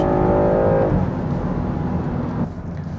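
Land Rover Defender 110 with a 3.0 turbo engine driving, a steady smooth engine drone and road rumble heard from inside, holding even throughout with no talk.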